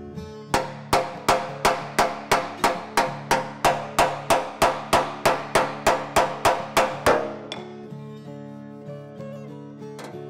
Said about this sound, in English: I'm gonna see if I can hammer that out, maybe on our piece of plastic there